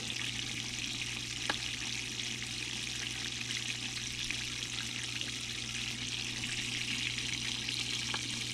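Pump-fed water runs through a gold sluice on its slowest setting, giving a steady, moderately faint rushing and trickling wash with no voices.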